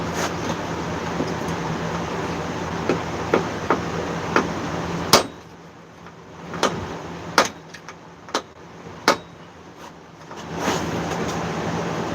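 Sharp metallic taps of a hammer striking a punch on a small 3/16 bolt ring out one at a time at irregular intervals, loud and close, over a steady background hum.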